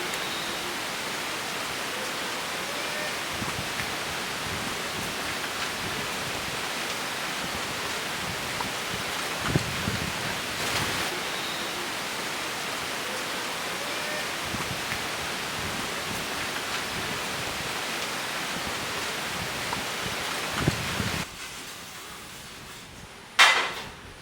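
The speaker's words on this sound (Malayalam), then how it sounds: "നല്ല മഴ വരുന്നുണ്ട്" Heavy rain pours steadily outside a home, a dense even hiss filling the whole stretch with occasional soft thumps, easing slightly near the end.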